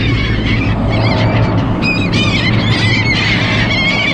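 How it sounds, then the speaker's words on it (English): Seagulls call repeatedly over a loud steady rumble of a boat at sea on a shrimping trip, their squealing cries rising and falling in bursts above the constant engine and wind noise. "Those seagulls love those little downers."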